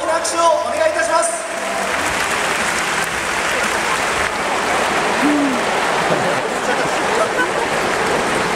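A stadium crowd at a J-League football match at Todoroki applauds in a broad, sustained wash of clapping, fairly distant and even after a short announcement at the start.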